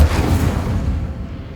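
Incendio fire spell cast in the Hogwarts Legacy video game, a single deep booming burst that quickly fades away.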